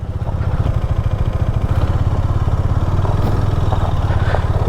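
A KTM Duke 390 motorcycle engine chugs in a loud, steady low pulse close by as the bike rides into water on a road from Siliguri to Gangtok, with clattering and splashing over the top.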